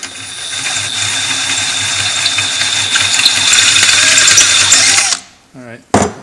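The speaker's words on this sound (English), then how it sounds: "One of the things that's nice about step drills is that they make round holes in thin material." A power drill fitted with a step bit whines continuously for about five seconds while cutting a round hole in thin material, then stops abruptly, followed by a short clatter.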